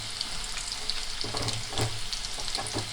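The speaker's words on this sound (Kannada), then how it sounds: "ಚೆನ್ನಾಗಿ ಫ್ರೈ ಮಾಡ್ಕೊಳ್ಳಿ ಎಣ್ಣೆಯಲ್ಲಿ." Chicken kebab pieces fry in hot oil in a home kitchen, giving a steady close crackling sizzle with a few brief stirring scrapes and no voices.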